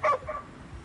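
A puppy in the video game Ghostwire: Tokyo gives one short, high yip followed by a softer second bark, close and clear.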